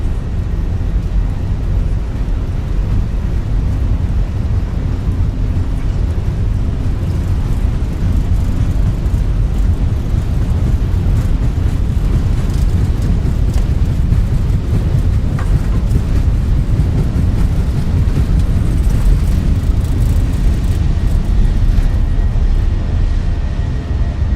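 Jet engines of a Fenix A320 airliner at takeoff thrust in a flight simulator: a loud, steady, broadband roar with deep rumble, holding constant and close for the whole stretch, with no talk over it.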